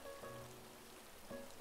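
Steady rain falls in Animal Crossing: New Horizons, a soft continuous patter that stays low and even throughout, with faint musical game tones rising briefly at moments and no voices present.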